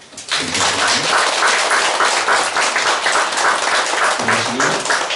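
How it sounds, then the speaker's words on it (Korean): Church congregation applauding newly installed officers at an ordination thanksgiving service, a loud, dense, sustained round of clapping from the whole room, with a low voice briefly audible near the start and again toward the end. "이분들 위해서 온 교회가 축하하는 마음으로 박수하시겠습니다."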